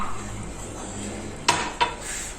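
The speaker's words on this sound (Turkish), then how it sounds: "Tamam tekrar karıştıralım." A spoon stirs cola, gummy candies and sugar in a pot, with a steady low scraping and two sharp metallic clinks against the pot's side near the end.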